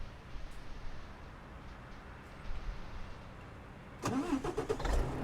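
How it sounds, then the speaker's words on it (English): Truck engine in Euro Truck Simulator 2 cranks and catches near the end, a brief burst of starter whine and rising engine tone after several seconds of quiet background hum. "Let's start the truck here."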